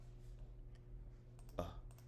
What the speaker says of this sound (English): I'm typing this in the chat real quick so y'all can see the name